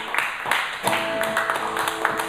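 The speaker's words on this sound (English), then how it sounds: "let's hear a round of applause if you're still with us at the Salvage." A bar audience at the Salvage claps and cheers in a steady, dense wash of applause that carries through the whole stretch, with sharp hand-claps poking out of the crowd noise.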